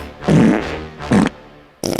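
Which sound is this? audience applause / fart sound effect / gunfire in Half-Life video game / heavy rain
fart sound effect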